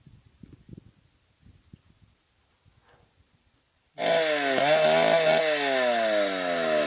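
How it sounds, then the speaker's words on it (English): After a few seconds of faint rustling, a chainsaw roars to life nearby, revving loudly and steadily as it cuts down a tree. "Lucky we heard the chainsaw and saw it swaying as we approached."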